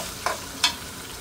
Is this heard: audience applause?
no